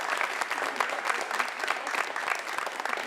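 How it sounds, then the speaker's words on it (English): Loud, continuous audience applause fills the room at a live event, a dense steady wash of clapping hands from start to finish. "Give them a round of applause, y'all."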